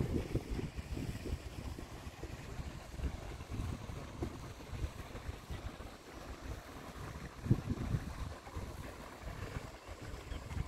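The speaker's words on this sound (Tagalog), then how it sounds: "Mahangin lang dito ngayon." Wind blowing by the water at a lakeside leisure area in Bendern, Liechtenstein, a steady low rumbling gust noise buffeting the microphone, alone with no voices.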